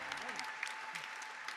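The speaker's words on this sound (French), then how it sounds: "Applaudissons notre Seigneur pour ses merveilles." Congregation clapping during French church worship, a soft steady patter of many hands, fairly faint, with a voice speaking over it.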